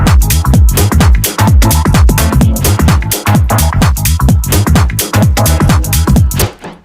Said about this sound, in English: So I wanted, again, these sort of like almost deep house kind of stabs.